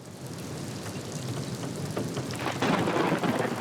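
Steady, dense rainfall hisses as a sound effect in the House of the Dead Remake video game, a continuous wash that swells slightly louder toward the end, with no voices over it.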